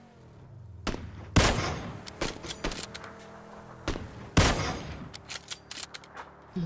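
Gunfire in PUBG, with several sharp shots cracking out at irregular intervals among smaller clicks and handling noises, fairly close and loud with no talk.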